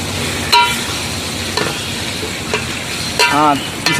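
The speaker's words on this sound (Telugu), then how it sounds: "కలుపుకోవాలి మెల్ల మెల్ల కలుపుకోవాలి చికెన్" Chicken curry is stirred slowly in a pot with a spoon, making soft scraping and simmering sounds, with brief muffled voice-like tones in the background.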